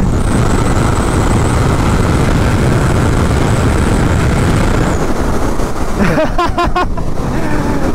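A 2019 Yamaha MT-09 motorcycle accelerates hard on a highway, with a loud, continuous engine roar mixed with strong wind rush, and a sharper rising engine note near the end.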